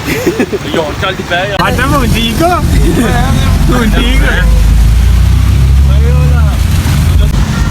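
An auto rickshaw ride carries a loud, low engine drone and wind rumble throughout, while people talk over the motor up close.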